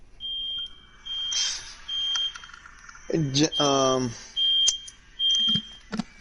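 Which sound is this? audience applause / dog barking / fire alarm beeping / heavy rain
fire alarm beeping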